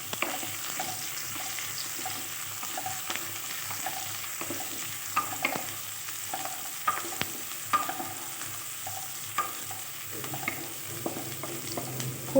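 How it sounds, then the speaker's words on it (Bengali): Chopped onions fry in hot oil for a prawn bharta, a steady sizzle running throughout with repeated scrapes and knocks of a spoon stirring them in the pan, close and moderately loud, with no talking. "তেলটা গরম হয়ে গেছিলো, পেঁয়াজ কুচিটাও আমি তেলের মধ্যে দিয়ে দিয়েছি"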